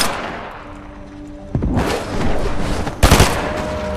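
Fortnite gunfire arrives as a sharp burst of rapid shots after a quiet stretch, then a second loud cluster of close, punchy shots near the end.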